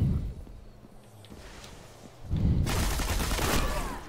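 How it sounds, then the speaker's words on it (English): Heavy machine gun fire in a shooter video game starts as scattered distant shots, then swells into a dense, loud, continuous burst of rapid gunfire in the last two seconds, without speech. "From a freaking heavy machine gun, there's no way."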